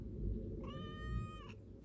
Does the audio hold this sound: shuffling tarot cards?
no